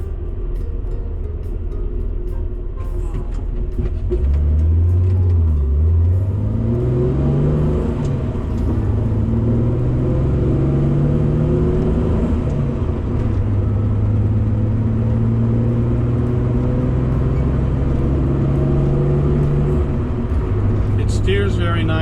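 A 1962 Chevrolet Corvair Monza 900 driving on a road, its engine droning and rising through the gears with steady road rumble inside the cabin, while a person talks over it.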